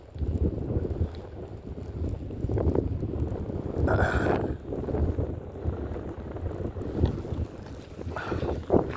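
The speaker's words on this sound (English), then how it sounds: "It doesn't help that I'm standing right where the wind's blowing." Strong gusty wind of around twenty miles per hour buffets the microphone on an outdoor fishing trip, a continuous low rumble that surges in waves and rises in several sharp gusts.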